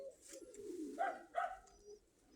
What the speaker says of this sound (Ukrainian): Така голубка моя виводна.